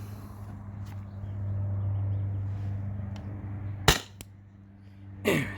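A Salt Supply S2 CO2 gun on a 20 oz tank fires a 3.6 gram ball through a poorly matched bore. Two sharp, close pops sound over a low steady hum, followed by brief clatter.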